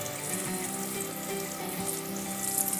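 Mixed vegetables frying in oil in a pan for restaurant-style vegetable biryani, a steady, dense sizzle and crackle that holds evenly throughout, close and moderately loud with no talking.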